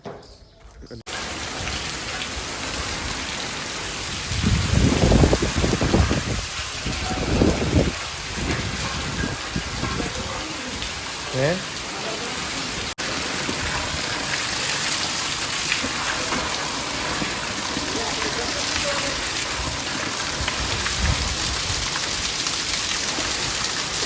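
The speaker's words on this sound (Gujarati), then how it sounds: "આટલો બધો વરસાદ આવ્યો" Heavy rain pours steadily, a dense continuous hiss up close, with a few low rumbles and a brief voice early on.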